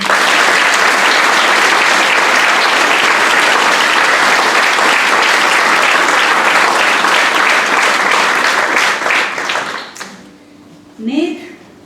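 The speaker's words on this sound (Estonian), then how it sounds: "meie aplaus Marleen Andersonile ja Eneli Käsperile" Loud, sustained applause at a school graduation ceremony, a packed hall clapping steadily for about ten seconds before it fades, followed by a brief voice.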